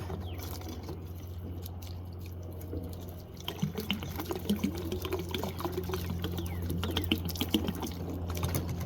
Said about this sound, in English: And then let's water it.